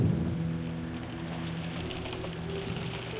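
Steady rain pours in a scene from the video game Reverse: 1999, with a low thunder rumble rolling under the constant hiss, close and evenly loud throughout.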